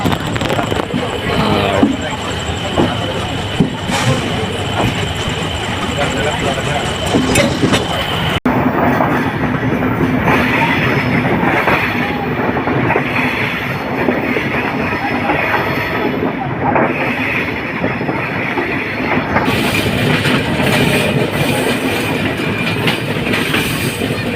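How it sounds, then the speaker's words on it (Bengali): The Chitra Express train pulls out of Kamalapur station and runs on the rails, a loud, continuous rumble with rhythmic clickety-clack and wind buffeting heard from on board, a voice talking over it at times. "ফাইনালি আমাদের ট্রেনটি ছাড়লো"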